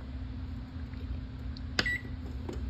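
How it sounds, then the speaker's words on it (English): A single short electronic beep from an oven timer being set for baking gingerbread, heard once over a steady low appliance hum in a quiet kitchen. "Okay, it's in the oven. Time to set it."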